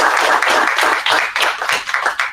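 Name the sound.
audience applause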